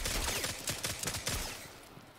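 A newly acquired gun in the video game Destiny 2 fires a rapid burst of several shots, loud and close, trailing off near the end with no talking.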